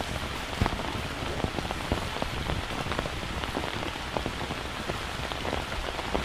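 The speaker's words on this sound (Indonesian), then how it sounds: "Hujan turun sangat deras, jadi Panji putuskan untuk membuat tempat be" Heavy rain pours steadily onto a forest canopy and the ground, a dense, constant hiss with scattered close drops tapping throughout, and no voices.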